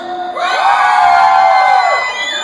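A live show crowd shouts and cheers loudly in one sustained burst of voices, swelling and then fading over a couple of seconds.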